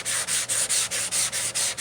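Bondo body filler on a car dent being sanded by hand with 80-grit sandpaper, rhythmic rough scratching strokes about four per second, close and loud with no voice.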